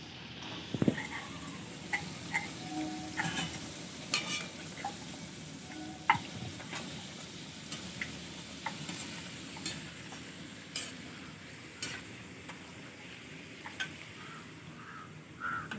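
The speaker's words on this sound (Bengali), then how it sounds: "আর দিদি ভাজছে লুচি" Luchi, puffed bread, deep-frying in oil produce a soft, continuous sizzle scattered with sharp clicks and utensil taps, fairly quiet and even over the whole stretch.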